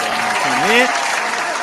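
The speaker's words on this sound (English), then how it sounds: "Round of applause." A short burst of crowd applause during a live online show, with a voice talking over the clapping.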